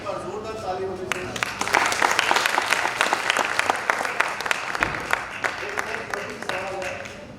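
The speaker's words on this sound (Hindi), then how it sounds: "जरा मेरे दोस्तों के ऊपर जोरदार ताली होनी चाहिए।" Loud, sustained audience applause fills a theatre during a stage performance at a drama festival, dense clapping swelling early and holding steady throughout, with some crowd voices mixed in.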